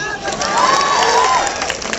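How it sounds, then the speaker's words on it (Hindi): A rally crowd in Bilaspur, Chhattisgarh, marking Shaheed Veer Narayan Singh's martyrdom day, claps and cheers loudly. A rising and falling whistle-like tone cuts through the din, and voices shout underneath. "ताली बजाओ।"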